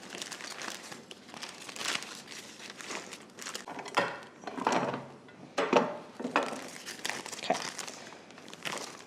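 A plastic bag crinkles and crackles as a flour tortilla is pressed in it, irregular bursts of crumpling rising and falling close by, with no speech.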